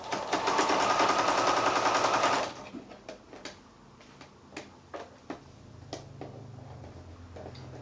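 Sewing machine fitted with a walking foot stitches quilt-as-you-go blocks and borders, a loud fast rattling run for about two seconds, then stops and is followed by scattered soft clicks and handling noises.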